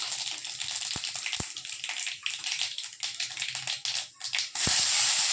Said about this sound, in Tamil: இப்போ கொஞ்சம் கடுகு போட்டுக்கிறேன்.